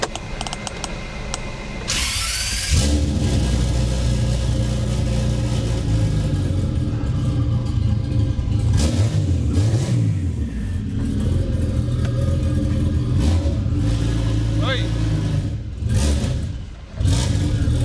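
A turbocharged V12 swapped into a Toyota Cressida revs hard and loud, a sustained throaty engine roar rising and falling through repeated throttle blips, with mechanical clatter and rumble close by and no talking.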